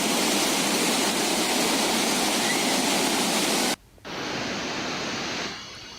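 Monsoon floodwater released from a dam in Madhya Pradesh after heavy rain, about 125,000 cusecs, makes a loud, dense, unbroken roar that cuts out abruptly for a moment and then surges back at full strength.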